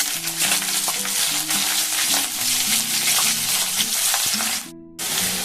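Chopped onions fry in hot oil with tempered spices, a loud close sizzle under a faint steady tune, briefly cut off near the end before the sizzle resumes.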